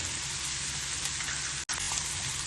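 Onion and chopped garlic frying in butter in a pan, a steady broad sizzle that runs unbroken apart from one very brief dropout near the end.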